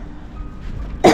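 A single short, sharp cough bursts out close by at the very end, after a stretch of low background rumble.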